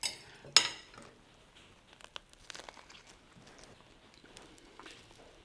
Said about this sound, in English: Chop it into shorter lengths